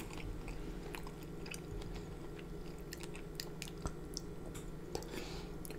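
Shrimp in creamy alfredo sauce being chewed right at the mic, a steady run of wet, squishy mastication with occasional soft crunches and lip smacks, heard alone.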